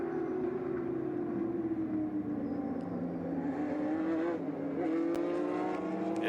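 Race cars at the HSR Daytona Classic 24 Hour endurance event at Daytona, a steady loud engine drone with shifting pitch as cars run past, no talking.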